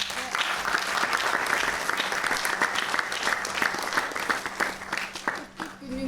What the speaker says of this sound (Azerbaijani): Gəlin bu uşaqları bir də alqışlayaq.